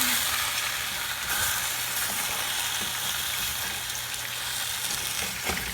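Potatoes and eggs fry in a pan for a hot breakfast sandwich, a steady close sizzle with soft scraping stir strokes running throughout, no voices.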